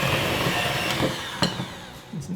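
An electric hand mixer whirs steadily as a large egg is beaten into chocolate cookie dough, a close, continuous motor drone with a couple of brief knocks of the beaters against the bowl.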